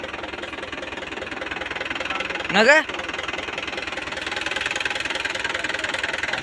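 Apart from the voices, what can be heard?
Mahindra tractor engine running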